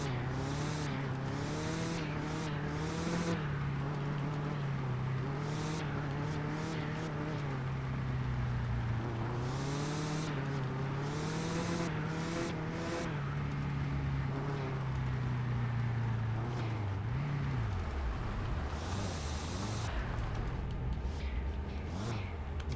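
Engine of an old truck droning steadily through low gears in the Mon Bazou driving game, a continuous rumble with pitch rising and falling as it speeds and slows, plus brief higher bursts of road noise.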